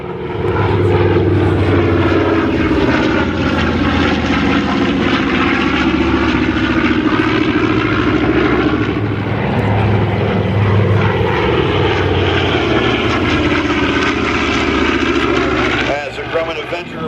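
A loud, steady drone of a propeller bomber's engines at the 2015 Geneseo air show runs throughout, with pulsing harmonic tones shifting slightly in pitch, up close.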